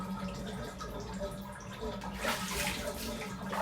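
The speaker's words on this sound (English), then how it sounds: "I need to start draining the water through the bath." Water runs and splashes in a bathtub as it drains, a steady churning wash that grows fuller and brighter toward the end, with a faint voice underneath.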